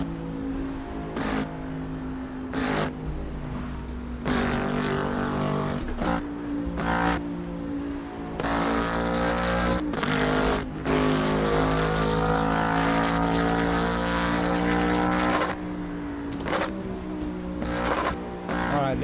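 A 1000-plus horsepower car's engine roars continuously while racing through highway traffic in the Assetto Corsa racing game, loud and close, with rising and falling revs and brief shift breaks.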